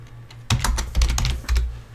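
Rapid keystrokes on a computer keyboard, close and fairly loud, in irregular bursts with no talk.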